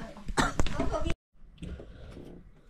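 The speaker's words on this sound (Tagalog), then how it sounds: "May ubo pa." A person coughs in a home being cleaned. Harsh, close coughing bursts fill the first second and stop abruptly, then softer muffled noise and breathing follow after a short silence.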